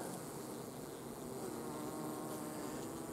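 Continuous dense buzzing of a honey bee colony during a queen introduction, a soft, even hum of many bees heard close and unbroken throughout.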